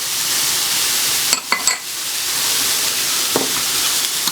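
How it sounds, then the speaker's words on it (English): Half a pound of sausage with shallot and garlic fries in a pan, a steady close sizzle and hiss broken by a few sharp scraping and stirring clacks as the meat is broken up. "I'm going to cook this up and try to break up the sausage"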